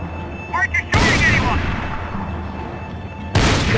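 Gunshots in the video game Max Payne 3, two loud booming shots spaced a few seconds apart, each with a trailing rumble, with a brief voice just before the first.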